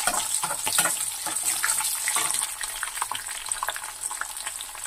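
Slit green chillies hit hot oil while tamarind pulihora is being cooked, giving a loud, constant crackling sizzle with scattered sharp pops throughout and no talk.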